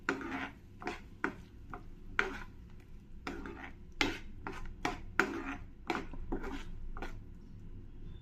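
A spoon stirs a curry of raw green peas fried with onion in a pan, making a series of quiet scraping and tapping strokes in an uneven rhythm with short pauses between them.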